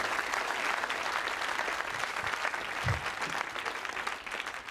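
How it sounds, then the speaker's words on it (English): Comedy show audience applauding a stand-up comic at a BBC Asian Network comedy night, a loud, dense, sustained wash of clapping from a large crowd that tapers slightly at the end. "Some of you applauded"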